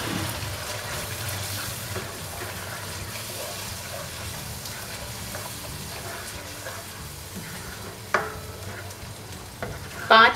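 Chicken liver mixed with green chilies and fresh coriander sizzles steadily in a pan as it is stirred, a continuous close frying hiss with a couple of sharp scraping knocks near the end.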